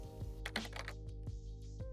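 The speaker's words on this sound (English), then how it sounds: "To rotate, click E key on your keyboard." Computer keyboard keys tapped while working in 3ds Max, a quick flurry of close, crisp clicks followed by a few single spaced presses.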